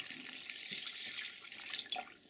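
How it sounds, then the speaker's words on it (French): Tap water runs briefly and faintly into a dish holding rice and red lentils, a soft splashing stream lasting about two seconds. "maintenant on va rajouter tout bêtement l'eau"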